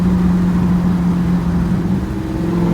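A high-mileage Ford Mustang's engine drones steadily from inside the car as it takes a turn, a loud, constant low hum with a slight shift in pitch midway and no talking.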